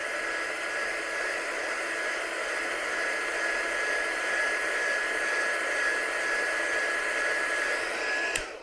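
A hair dryer blows steadily on a wet craft piece, a loud continuous broadband whoosh with a faint high whine, holding evenly before cutting off abruptly near the end.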